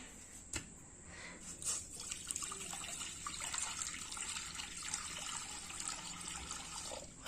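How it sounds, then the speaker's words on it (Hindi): Water pours and splashes into a kadai set on a stove for boiling jackfruit, a faint, irregular trickle with a few soft clunks, heard alone with no talking. "उबालने के लिए हम पहले पानी ले लेते हैं।"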